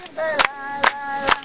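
Three sharp hand claps spaced evenly about half a second apart, made by children at a festival activity, close and distinct, with a sustained tonal voice-like hum running underneath.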